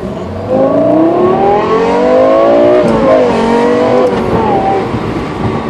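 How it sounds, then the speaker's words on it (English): A Lexus LFA's naturally aspirated 560-horsepower V10 revs hard and close, its high shrieking engine note climbing and falling through repeated throttle blips with no speech over it. "So it's a V10 engine, 560 horsepower, normally aspirated."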